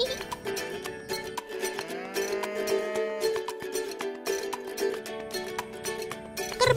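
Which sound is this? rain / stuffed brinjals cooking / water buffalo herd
water buffalo herd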